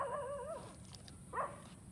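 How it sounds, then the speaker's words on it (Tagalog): A dog gives two faint, wavering howls, a longer one first and a short one after a brief gap, quiet and somewhat distant. "Kaya alulong siya ng alulong."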